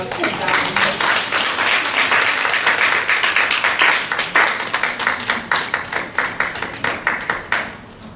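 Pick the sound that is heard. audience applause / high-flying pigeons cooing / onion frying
audience applause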